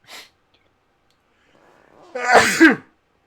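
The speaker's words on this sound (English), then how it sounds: "I'm gonna sneeze." A single person sneezes close up, a short inhaled buildup followed by a sharp, loud burst of breath, preceded by a faint earlier breath or sniff in a quiet room.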